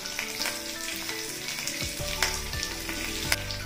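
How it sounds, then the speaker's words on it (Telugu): Curry leaves and a pinch of asafoetida fry in hot oil over a medium flame for a tempering, giving a continuous close sizzle with scattered sharp crackles and pops over soft tonal background music. "వీటన్నిటిని మీడియం ఫ్లేమ్ మీద వేగనిద్దాం."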